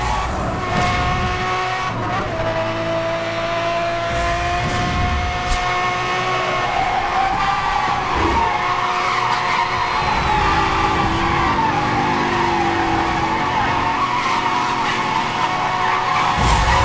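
Tires skid and squeal through a police car chase in a battle royale video game, with a continuous loud engine roar and layered screeching that rises and falls across the whole stretch, near and dense, with no talk.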